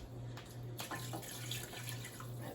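Water poured from a cup into a cooking pot holding brown sugar while making sloppy joes, a steady close splashing trickle over a low hum, running about two and a half seconds without speech.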